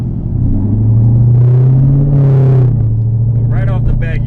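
Car engine pulled hard on a test drive after an air filter recharge, a loud close rumble rising in pitch through one long rev before easing off.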